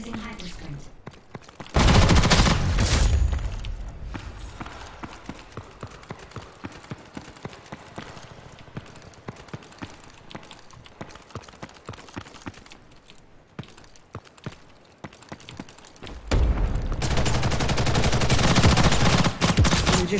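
Rapid video game gunfire in dense automatic bursts and scattered single shots, with loud sustained firing at the start and end and sparser cracks in between.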